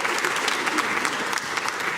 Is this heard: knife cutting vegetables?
no